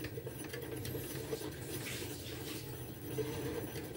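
An old, rusty sewing machine turned by hand with its belt removed, giving faint continuous ratcheting clicks and gear chatter from the mechanism, close but quiet.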